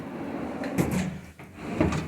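Drawers of a hallway wardrobe in an apartment slide open and shut, giving two soft, close knocks in a quiet room with no talk.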